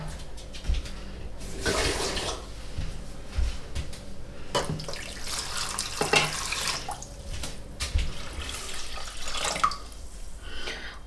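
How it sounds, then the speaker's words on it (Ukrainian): Water splashes and pours in uneven bursts into a towel-lined pot holding jars of adjika, with clinks and gurgles between pours, close and moderately quiet. "Каструлю я застелила рушничком і зараз залию водою"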